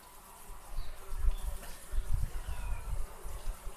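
Honeybees buzzing close by while a beekeeper splits a hive onto a frame with a mature queen cell, a steady low hum with fluctuating loudness and light handling noises.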